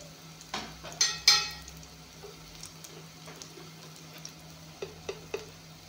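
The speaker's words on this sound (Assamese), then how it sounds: "এইখিনি অলপমান ভাজি ল'ম।" Ground spice powders frying briefly in a hot pan for a fish curry, giving a soft background sizzle broken by a few short scraping stirs and clinks, close and fairly quiet with no talk.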